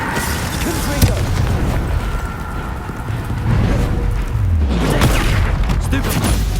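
The Confringo explosive spell in Hogwarts Legacy, heard as repeated booming blasts and pops in a steady, loud combat din, with sharp hits over a rumbling background and a speaking voice mixed in.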